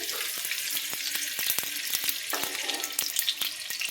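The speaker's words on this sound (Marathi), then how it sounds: "रवा भाजून घेऊया तुपामध्ये छान मस्त खमंग" Semolina roasting in ghee for karanji, a steady close sizzle with frequent scraping stir strokes running throughout, no voices.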